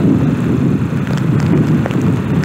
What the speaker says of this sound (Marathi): पाऊस सुरू झालेला आहे बघू शकता जोरात पाऊस पडतोय